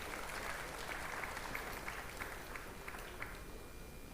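Audience applause fills a conference hall, a steady dense wash of many hands clapping at even loudness from start to finish, with no voices over it.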